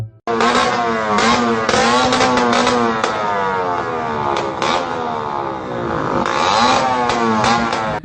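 Motorcycle fitted with a loud aftermarket knalpot brong exhaust, revving hard during a police noise check, with continuous roaring bursts rising and falling in pitch, close and very loud throughout with no talk.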